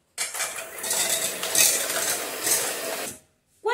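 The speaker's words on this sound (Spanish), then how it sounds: "Y vamos a batir hasta que quede una espuma bien levantada" Eggs and vanilla essence being beaten into an airy foam for a sponge cake, a dense continuous whisking clatter for about three seconds, fairly close and loud, stopping briefly before resuming.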